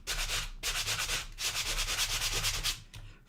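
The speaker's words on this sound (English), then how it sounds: "I'm done scratching" Scratching and rubbing on a surface in repeated broad bursts, each stroke lasting about half a second, close and fairly loud, with no voices.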